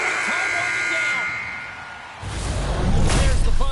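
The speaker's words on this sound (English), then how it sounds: "There's the buzzer. 20 minutes in the books." An ice hockey arena horn sounds to end a period, a sustained electronic buzzer tone that fades into crowd noise and clatter, with commentary talk around it.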